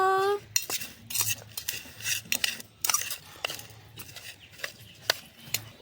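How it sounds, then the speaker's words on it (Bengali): A spoon repeatedly clinks and scrapes against a big metal pot while boiled amla is mixed with salt, black salt, chili and turmeric, in irregular close bursts of sharp metallic knocks. "একটা বড় পাত্র নিয়েছি এর মধ্যে দিয়ে দেব সেদ্ধ করে রাখা আমলকি এর মধ্যে দিয়ে দেব লবণ বিট লবণ লঙ্কার আর হলুদ গুঁড়ো দিয়ে ভালো করে মিশিয়ে নেব"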